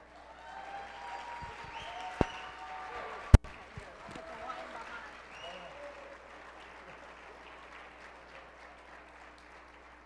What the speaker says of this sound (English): Can we give this group a round of applause?